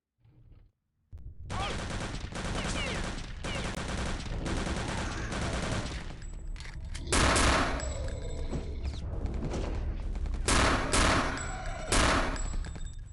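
Bursts of gunfire in the VR shooter Wolfenstein, loud and dense volleys of rapid automatic shots in several clusters, continuing almost without pause after a brief quiet start.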